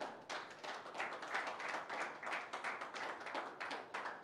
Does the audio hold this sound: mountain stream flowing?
no